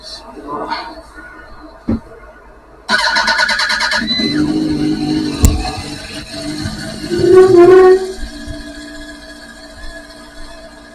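An engine repaired with JB Weld cranks briefly and catches, then runs with a steady rumble under intermittent talking and other noises, including a rising whine late on.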